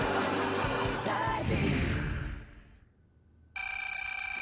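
After a stretch of loud background noise that fades almost to silence, a telephone bell starts ringing sharply and steadily nearby, its shrill electronic trill continuing to the end.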